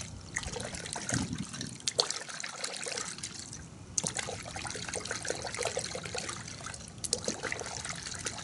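Continuous splashing and trickling of warm water poured steadily into a bucket for car washing, fairly quiet and close, with no voices.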